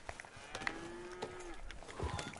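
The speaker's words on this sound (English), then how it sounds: "A Devon ox." A Devon ox in the video game Red Dead Redemption 2 lets out a long, steady moo at moderate distance over quiet outdoor game ambience.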